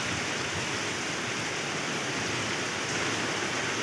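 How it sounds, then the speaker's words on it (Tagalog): Heavy typhoon rain in Santa Rosa, Laguna pours down as a steady, dense, broadband hiss, constant and loud throughout without any break or voices. "Malakas yung ulan,"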